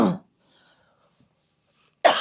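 A person coughs during a morning yoga session, with a short harsh burst at the start and a second loud cough after a near-silent pause.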